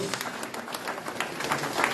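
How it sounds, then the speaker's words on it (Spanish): Congregation clapping for the Lord in a Spanish-language church service, a brisk, fairly even burst of many hands with individual claps standing out, moderately loud throughout. "Denle un aplauso grande al Señor."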